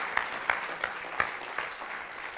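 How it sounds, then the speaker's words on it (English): A conference audience applauds briefly, a sparse scatter of individual claps over a soft bed of clapping that fades after a couple of seconds. "let's have a round of applause"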